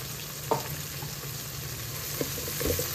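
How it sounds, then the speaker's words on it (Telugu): Ginger garlic paste frying in a pan for paneer dum biryani, a steady close sizzle with a couple of soft stirring knocks, no talking. "అల్లం వెల్లుల్లి పేస్ట్ పచ్చివాసన పోయే వరకు కొంచెం వేపాలి."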